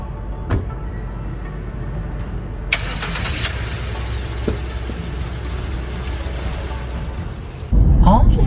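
Hyundai Exter SX hatchback, manual gearbox, heard from inside with a steady low engine hum and road rumble, a brief brighter surge partway through and a louder knock near the end, while a voice speaks at times.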